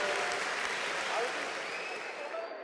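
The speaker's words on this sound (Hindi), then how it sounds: "Let's give a huge round of applause." Sustained round of applause from a large live audience at a televised Rishikesh stage show, dense steady clapping filling the whole stretch and tapering only slightly toward the end.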